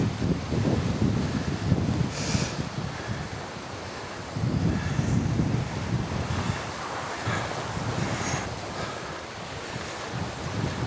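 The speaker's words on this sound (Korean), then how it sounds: "아, 바람이." Strong wind blows across the open sea on a fishing boat, a loud, steady roar that gusts and buffets the microphone, with waves and water noise surging underneath throughout.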